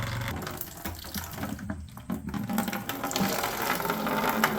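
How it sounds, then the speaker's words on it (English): Water splashes and pours in an uneven stream from a Troy-Bilt tiller, with some mechanical clicking and rattling mixed in. "I'm not spilling oil, I'm spilling water."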